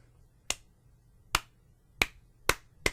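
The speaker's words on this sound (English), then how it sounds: "Let's have a little slow clap for him." Five sharp, isolated claps spaced unevenly apart, slow and deliberate, with quiet pauses between them and no voices.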